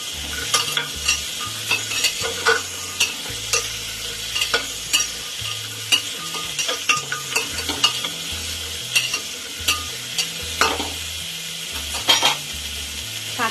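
Vegetables stirred in a hot pan for chicken stew, with a steady sizzle under repeated scraping and clattering strokes of a spoon, close up and continuous.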